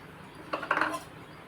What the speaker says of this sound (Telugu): ఇదిగోండి బెండకాయ ముక్కలు వేసేస్తున్నాను